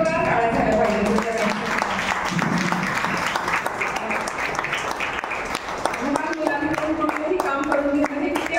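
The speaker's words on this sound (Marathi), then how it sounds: "आपण रुचा ताई कांगर यांचा सन्मान करावा आणि जोरदार टाळ्या झाल्या पाहिजे." An audience at a public honouring ceremony breaks into loud, sustained applause, dense clapping running throughout with some voices mixed in beneath it.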